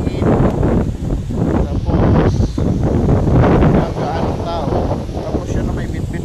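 Wind gusts on a Boracay beach buffet the microphone with steady, loud low rumbling throughout, alone with no talk.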